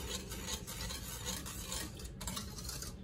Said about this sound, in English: You've got to stir it often.